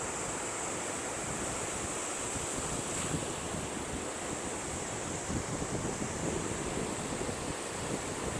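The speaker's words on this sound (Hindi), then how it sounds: "जहाँ साहिल पर उछलती लहरों ने हमारा इस्तकबाल किया" Ocean waves on the beach at Mubarak Village, a fishing settlement near Karachi: continuous rushing surf with wind buffeting the microphone, steady and close throughout.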